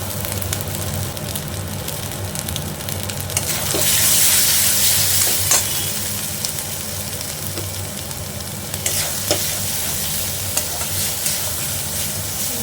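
Onion and garlic paste drops into hot oil and fries with a steady crackling sizzle. The hiss swells loudly for a few seconds after it goes in, then settles back, with occasional scraping knocks as it is stirred.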